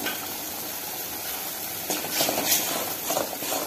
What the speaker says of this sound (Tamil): மசாலாவோட பச்சை வாசனையெல்லாம் ஒரு 2 நிமிஷம் நல்லா கொதிக்கட்டும்.